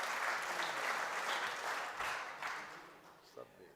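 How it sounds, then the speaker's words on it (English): An audience at a Rotary District 2120 project fair applauds, a dense wash of many hands clapping that is loud at first and gradually thins out and fades, with a few last scattered claps near the end. "So we applause to him anyway."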